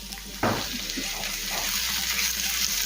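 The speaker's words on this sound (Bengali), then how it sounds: "আদা রসুন বাটা পেঁয়াজের সাথে কিছুক্ষণ সময় একটু কষিয়ে নেব" Ginger garlic paste and onions fry in a pan with a steady loud sizzle and hiss, opening with a sudden burst as the paste meets the hot oil.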